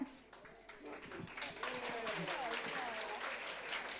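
An audience claps for a small group that has just performed sign language and dance at a community event, a dense patter of applause continuing beneath a speaker's voice.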